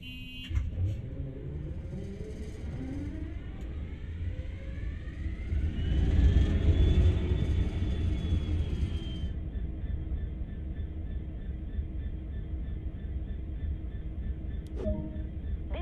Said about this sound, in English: Use the engine start button on the desk, then wait for the engine to get running